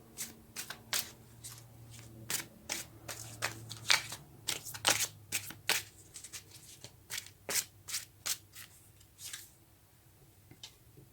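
Tarot cards being shuffled by hand, a quick run of crisp riffling snaps and slaps in irregular bursts, close and fairly quiet, with a faint low hum underneath.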